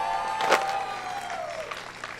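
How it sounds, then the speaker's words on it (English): An audience at the EA E3 2018 press conference gives a short burst of cheering and applause, with a voice rising above the crowd noise before it fades. "I'm surprised people are cheering."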